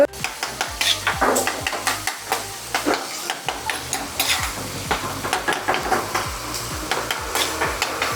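Fish dulet fries in a little oil with garlic, black pepper and rosemary, giving a continuous close sizzle with a rhythmic stirring scrape repeating every half second or so, and no talking.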